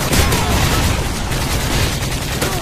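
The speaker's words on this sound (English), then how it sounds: "Friendly Predator missile inbound." Dense, continuous blasts and gunfire from a Predator missile strike in a shooter video game, loud and close throughout the short stretch with no talking.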